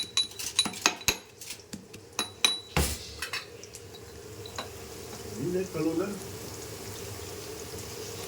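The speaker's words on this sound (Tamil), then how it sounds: "நெக்ஸ்ட்டு வந்து பூண்டை நல்லா இடித்து எடுத்துக்கலாம்." Garlic is pounded for a fish curry, with a series of sharp, irregular knocks up close that fade out, leaving a quiet hum and low kitchen noise.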